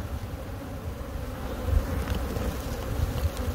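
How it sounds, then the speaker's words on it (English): A dense, steady buzz of many bees rises from a hive inside a fallen tree being opened for removal, close and continuous throughout. "Like a handful of bees."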